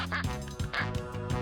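A small duck in a children's cartoon quacks loudly and close, three or four nasal quacks in quick succession with no talk.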